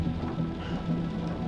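Rain and thunder rumble in a stormy scene from the video game Man of Medan, with a dense, loud wash of rainfall over low rolling thunder, continuous and heard alone.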